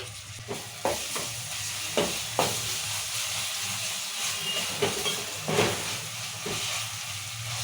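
Ginger-garlic paste being stirred into onions and green chillies for a mutton curry: a steady sizzle in the pan, broken by regular scraping clicks from the spoon, with no voices.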